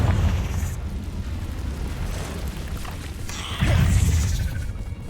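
A Confringo fire-blast spell erupts in Hogwarts Legacy inside a cave, two heavy explosive booms with rumbling low-end roar, the second one bursting louder near the end, with no talk heard.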